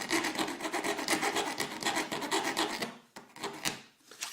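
A hand file rasps along the edge of a metal rudder rib held against a table, with quick rhythmic strokes up close that slow into a few separate scrapes near the end.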